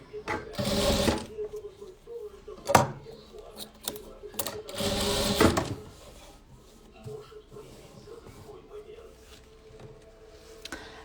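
A sewing machine stitches a 3D mosaic patchwork quilt in two loud whirring bursts of about a second each, with softer clicks and short runs in between, while someone talks through much of it.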